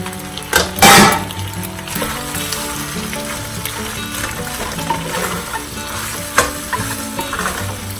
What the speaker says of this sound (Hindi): तो अब मैं ये स्पैगेटी ऐड कर रही हूँ